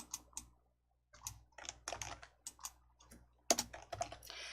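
Fast, irregular key presses on a computer keyboard while entering footnote text in a word processor, close and fairly quiet, with short pauses between bursts and no voice.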